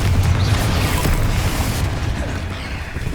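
Confringo blasting spell exploding in the video game Hogwarts Legacy, a loud, sustained booming burst with heavy low rumble that holds steady for about three seconds.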